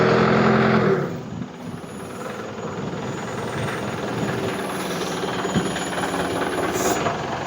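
Crane truck engine heard up close: a loud rumble at the start drops off sharply after about a second, then a steady heavy diesel drone with a faint rattle carries on to the end, with no voices.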